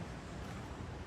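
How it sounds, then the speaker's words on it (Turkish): Sea waves resonate inside a coastal cave as a faint, low, hollow rumble with airy wash, one steady swell over about a second and no voices. "O dalganın sesi buraya akort yapıyor."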